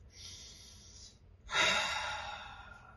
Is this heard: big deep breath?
yes